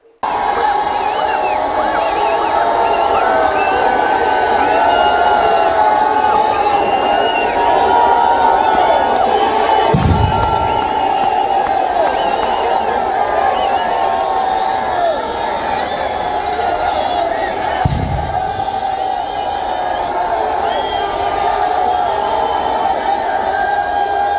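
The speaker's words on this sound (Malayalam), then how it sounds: "ചിനക്കത്തൂർ പൂരം ആർപ്പുവിളികളോടെ ഒറ്റപ്പാലത്ത് കുതിരയ്ക്ക് തലവയ്ക്കൽ നടന്നു" A dense crowd shouts and cheers at the Chinakkathur Pooram horse head-placing ceremony in Ottapalam, a loud continuous roar of voices and whoops lasting throughout, with a couple of brief low thumps partway through.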